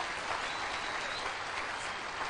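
Steady applause from an audience fills the room for ministry staff at a press briefing, a dense, even clatter of many hands clapping throughout, moderately loud with no pauses.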